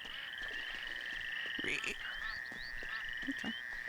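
Frogs croaking in a Duck Dynasty video game, a continuous chorus of trilling calls with a few sharper chirps layered over it, steady and moderately loud with faint background noise.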